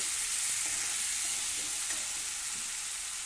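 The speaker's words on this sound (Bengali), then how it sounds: "আমি বেশ ভালো করে আলুর সাথে মশলাটাকে ভালো করে কষিয়ে নিয়েছি" Potatoes and spices fry in a pan with a steady, close sizzle. They are stirred throughout, and no one talks.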